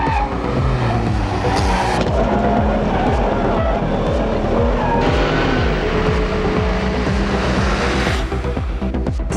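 A Ruf Yellowbird, the Porsche 930-based car, drives hard with a loud, continuous engine roar. Revs rise and fall through gear changes, with faint tire squeal in between, and the car stays close the whole time.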